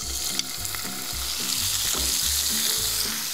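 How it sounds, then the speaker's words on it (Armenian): Meat frying in hot sesame oil in a pan, a steady close sizzle with crackling running throughout, alone with no voices. "որ սկսենք տապակել մսերը"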